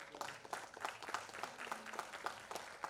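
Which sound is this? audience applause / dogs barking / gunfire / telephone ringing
audience applause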